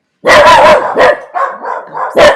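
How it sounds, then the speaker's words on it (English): Two dogs bark loudly and close by in a quick burst of about five sharp barks, with a brief pause mid-sequence, indoors in a home while they are being dog-sat. "The dogs, I'm dog sitting two dogs"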